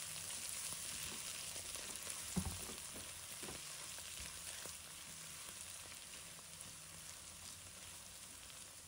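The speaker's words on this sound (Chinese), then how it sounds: "我们把青红椒加入锅中，继续翻炒均匀，把青红椒炒至入味。" Shiitake mushrooms and green and red peppers are stir-fried in a wok, producing a quiet, continuous sizzle broken by soft scraping and tossing sounds, with one sharper clatter early on.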